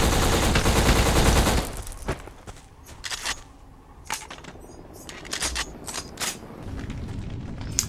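Weapon fire in the Xbox shooter Black: a dense, loud burst of rapid automatic gunfire, then scattered sharp single shots and impacts over a rumbling game soundscape.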